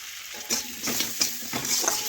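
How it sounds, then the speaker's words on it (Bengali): Tomatoes with Kashmiri red chili powder fry in a pan, a steady close sizzle punctuated by several quick spatula stirring strokes in an even rhythm, no voices. "টমেটো ভেজে নেব কিন্তু টমেটো একদম গলিয়ে নেব না"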